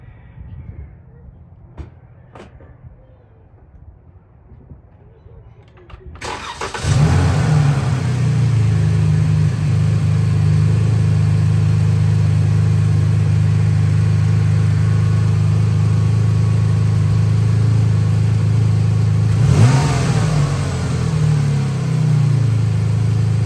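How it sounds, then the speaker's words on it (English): A 2014 Dodge Charger SE with a 3.6 engine and newly replaced fuel injectors cranks and starts after a few seconds of quiet handling noise, then holds a loud, steady idle with a brief rev near the end. "Now let's start the car up and see if it runs any differently."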